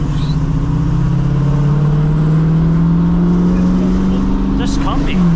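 A 1970 Dodge Challenger with a 392 SRT engine drives along, its loud, close, low engine drone rising steadily in pitch as it accelerates, then dropping near the end.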